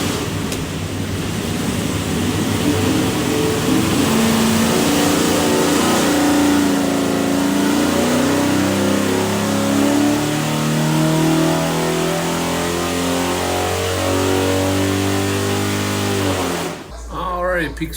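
A 489ci Big Block Chevy with a custom-grind hydraulic roller cam and carburetor roars on a dyno, climbing steadily in pitch through a long, loud pull before cutting off abruptly near the end.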